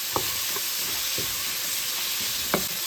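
Frozen shrimp hitting a hot pot with mushrooms for lectin-free egg fried rice, a continuous hiss of frying with a few soft stirring taps scattered through.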